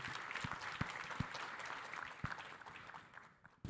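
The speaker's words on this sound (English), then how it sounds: "Let's give him a round of applause." Audience applause for panelists being introduced at the World Strategic Forum 2025, a broad steady wash of clapping with a few sharper claps standing out, fading toward the end.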